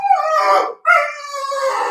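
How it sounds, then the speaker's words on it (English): A dog howls in two long, wavering tonal cries separated by a short breath, loud and close, with no other sounds. "Somebody's got a dog out there"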